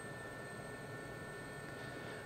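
SA342 Gazelle helicopter in flight in the DCS simulator, a constant faint turbine whine with steady high tones over a low rotor rumble, unchanging throughout.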